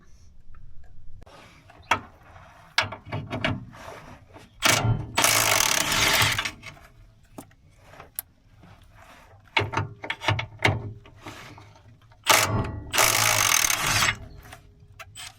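Ratchet wrench loosening rusty drive shaft bolts at the carrier bearing of a cheap pickup truck, heard as repeated close metallic clicks and ratcheting bursts with a few louder scraping rattles between quieter pauses.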